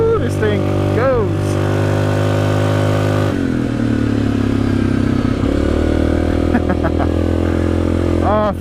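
Yamaha Grizzly 700 XTR ATV engine running loud and close on a trail ride, a steady droning roar with shifts in pitch as it accelerates, with a voice cheering over it.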